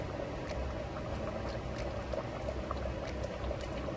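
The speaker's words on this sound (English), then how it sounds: "As you can see, it's boiling properly" Egusi soup made with melon paste bubbling steadily in a pot, a soft continuous simmer with small pops and gurgles, fairly quiet and close.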